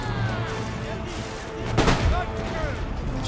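Musket volleys crackle in the Empire: Total War battle as British troops fire on an enemy's flank and rear, with a sharp burst of gunfire peaking midway over a continuous din of battle noise and commentary.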